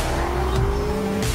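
Lamborghini Urus engine droning steadily as the car drives past, a loud continuous hum with a faint tire-like hiss rising near the end.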